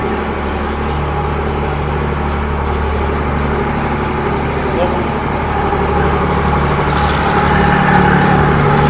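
A large passenger boat engine drones steadily at a low, constant pitch throughout, loud and close, with a faint hum of background activity, on a backwater trip from Alappuzha to Kainakary.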